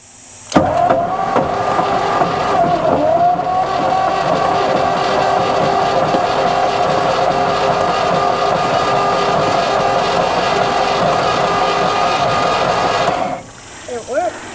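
A 1963 Chevrolet C-20 truck engine is cranked and catches, a sharp onset followed by a steady running drone with tonal whine and hiss that holds loud and close for over ten seconds before cutting off.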